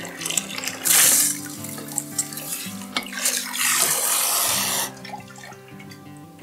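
Delicate china dishes with gold trim are washed under a running tap, a loud gush of water with brief bursts and splashes, light clinks of china and a quieter trickle near the end, close by.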